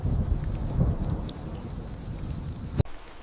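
Heavy rain falls steadily as a dense, rushing hiss with low rumbling underneath, ending in an abrupt cutoff near the close.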